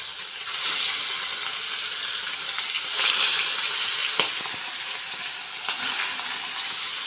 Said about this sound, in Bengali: এখন ভালো করে মাছগুলোকে ফ্রাই করে নেব